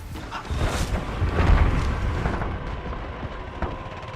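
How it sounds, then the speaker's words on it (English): A Semtex grenade goes off in a Call of Duty match, a deep rumbling blast that swells and fades over a few seconds, with gameplay noise and a few small impacts after. "Throwing Semtex."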